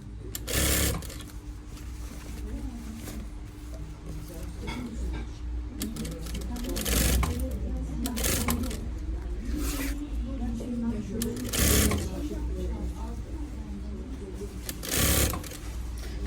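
A sewing machine stitching a zippered lining, running in steady whirring stretches with several loud close bursts, while someone talks over it.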